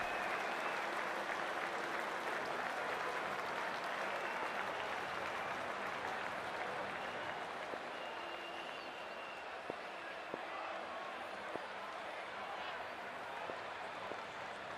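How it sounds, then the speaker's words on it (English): Stadium crowd at an England versus Zimbabwe ODI cricket match in a video game, a loud continuous roar and cheer with scattered claps and faint horn-like tones, steady throughout with no speech. "already the crowd is up and about"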